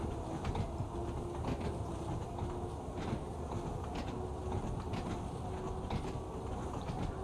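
A Class 483 electric train in Train Sim World 2 runs steadily with a continuous rolling rumble and periodic soft clicks from the rails, with no voices.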